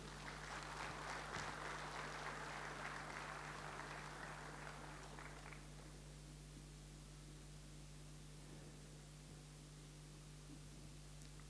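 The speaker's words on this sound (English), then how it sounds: "Ladies and gentlemen, this requires a round of applause." An audience claps at a pulses industry conference, a dense burst of applause that fades after about five seconds into a low hum and faint room noise.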